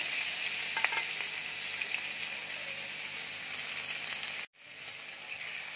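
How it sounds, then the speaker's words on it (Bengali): Chopped onion sizzling steadily in hot oil, a loud continuous broadband frying hiss with a few faint stirring scrapes early on, cutting out briefly near the end before resuming. "এবার আমি পেঁয়াজটা দিয়ে দিচ্ছি তেলের মধ্যে"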